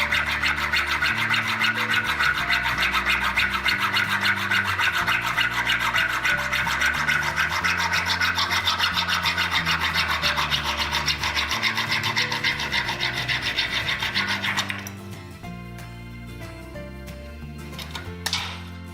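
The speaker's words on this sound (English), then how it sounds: "I'm going to use my hacksaw. What I'm doing now, cut myself a nice square end on the MI" A hacksaw cuts through MI cable to make a square end, with loud, steady back-and-forth rasping strokes up close for about fifteen seconds, then stopping as the cut finishes.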